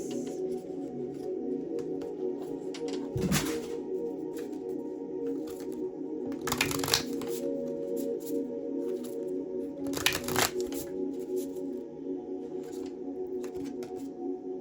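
Tarot cards are shuffled and riffled in three separate bursts, brisk papery flutters over a steady low background hum, close up with no speech.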